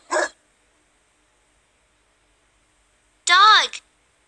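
A single short, sharp dog bark near the end with a rising-falling pitch, preceded by a brief clipped sound and long silence.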